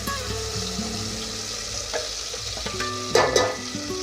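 Mutton pieces drop into black masala cooking in a pan for kala mutton, a steady sizzle that flares up briefly near the end, with faint tonal background music underneath.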